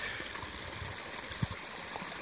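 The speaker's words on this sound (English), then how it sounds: "this is our lake and the creek that feeds it, one of them" A creek feeding a lake, running full after recent rain, gives a steady, soft broadband rush of flowing water with one brief splash partway through.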